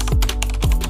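Fingers typing a password on a computer keyboard: a quick pair of close key clicks in a short burst, no talking.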